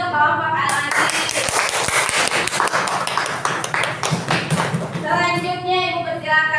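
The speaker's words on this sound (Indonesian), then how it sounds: "Beri tepuk tangan untuk kelompok Al-Aziz." Classroom of students clapping for a group after a teacher's prompt, a quick burst of hand claps mixed with children's voices and shuffling, with talking before and after.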